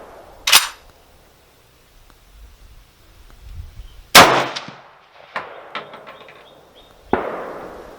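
Ruger Mini-30 rifle shots ringing off a bandolier-sized steel target outdoors: two or three sharp, loud cracks spaced seconds apart, with a faint echo trailing each.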